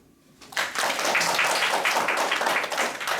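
Applause breaks out from a lecture audience in Korea after a short quiet start, then many hands clap loudly and steadily to the end.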